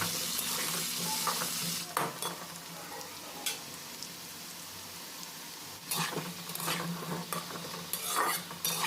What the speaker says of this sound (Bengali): নাড়াচাড়া করে আলুটা ভালোভাবে ভেজে নিতে হবে